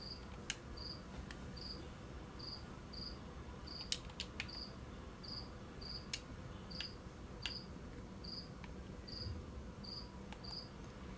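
Cricket chirping in steady repeated short bursts throughout, alone over a low background hum, with a few sharp clicks, during a Madden 23 Atlanta Falcons franchise game session.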